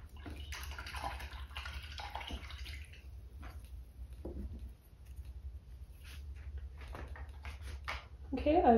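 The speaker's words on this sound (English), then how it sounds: "Okay, I've rinsed that brush out" A paintbrush is swished and rinsed in a water jar during a snowman landscape painting session, soft splashing and sloshing close by, mixed with a voice talking quietly.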